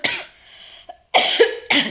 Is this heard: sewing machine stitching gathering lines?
no